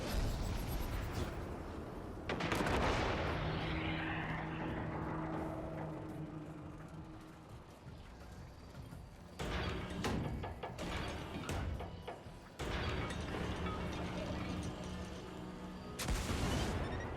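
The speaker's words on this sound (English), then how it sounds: "I'm just kind of using the cannons to traverse the area and get to the appropriate island" Cannons fire in the video game Destiny 2 during the Grasp of Avarice dungeon, sending out repeated loud booming blasts with long rumbling, rushing tails that fade between shots.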